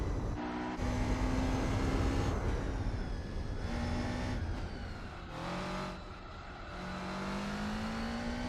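A Muses 2000 GT1 race car in Gran Turismo 4 roars at full throttle around the Nürburgring during a 24-hour race, its engine whine climbing in pitch through each gear before dropping at upshifts, loud and continuous with no talking.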